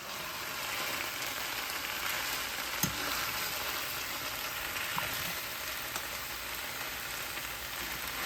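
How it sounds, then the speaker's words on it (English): Cooked rice and okra frying in a pan, giving a steady, even sizzle that runs throughout with a couple of faint soft knocks from stirring; no talking. "just keep stirring it until you think it's just well acquainted"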